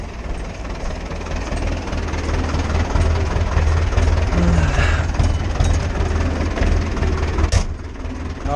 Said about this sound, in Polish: Zaraz wam pokażę teraz jak podnosi ten nowy rozdzielacz.